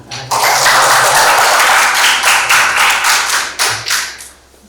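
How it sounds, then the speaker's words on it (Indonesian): Classroom audience of students clapping together in an Islamic studies lesson, loud rhythmic bursts of hand claps for several seconds that fade out at the end. "Alhamdulillah, kita tepuk tangan."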